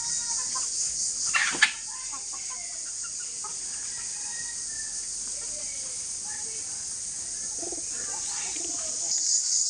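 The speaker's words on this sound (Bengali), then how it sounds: "আর এখানে আমাদের গলাছিলা মুরগি," Naked-neck chickens and a rooster on a farm cluck softly and intermittently over a constant high-pitched background hiss, with a brief louder burst early on and pigeon-like cooing nearby.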